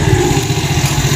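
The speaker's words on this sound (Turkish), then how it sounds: "Ve sonra marşa basıyorum." Motorcycle engine running right after the starter is pressed, a steady, loud low-pitched idle with an even pulsing throb and no talk.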